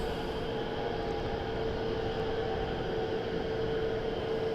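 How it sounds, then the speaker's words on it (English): A Spitfire and a Hurricane taxi past the control tower at Southend Airport, heard as a steady, droning engine rumble with a constant hum and no talking. "We should get a wonderful view of both the Spitfire and the Hurricane taxiing straight past us here at the tower."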